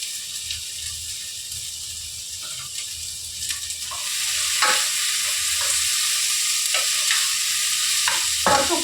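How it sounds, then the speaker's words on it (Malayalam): Chopped onions fry in hot oil for an egg curry, a constant sizzle that grows louder halfway through, punctuated by sharp spoon-against-pan stirring clicks, close up with no speech. "ഇത് ചൂടാകുമ്പോഴേക്കും നമുക്ക് സവാള നുറുക്കിയത് ഇട്ട് കൊടുക്കാം"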